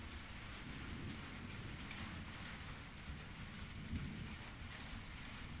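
Steady heavy rain pours outdoors during a lightning storm, a dense continuous hiss with low rumbling thunder underneath, no voices.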